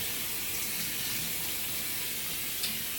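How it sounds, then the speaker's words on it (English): Running tap water rinses a child's hair after a rice water wash, a steady loud hiss and splash that continues throughout with no talk. "I'm just gonna rinse it out."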